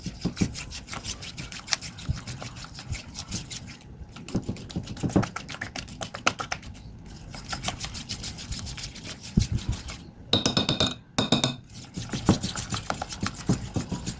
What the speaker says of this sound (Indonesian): Kalau mau pakai mixer juga boleh ya, tapi diaduk pakai whisk juga bisa sih asal ngaduknya cepat.